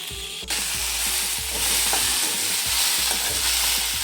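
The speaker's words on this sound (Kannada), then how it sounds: "ನೋಡಿ, ಬೆಂಡೆಕಾಯಿ ಈ ಥರ ಎಷ್ಟು ಚೆನ್ನಾಗಿ ಫ್ರೈ ಆಯಿತು." Okra fries in hot oil with cumin, mustard seeds and asafoetida while a spoon stirs it in the pan for sambar. A steady close sizzle runs throughout, broken by repeated scraping strokes of the spoon.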